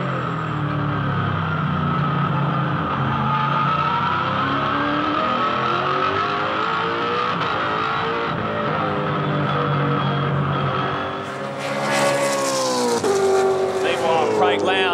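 Pack of V8 Supercars racing at Hidden Valley Raceway, loud continuous engine roar with shifting harmonics and a brief dip around eleven seconds, then higher-pitched revving as cars pass close, with commentary-like voices faintly underneath.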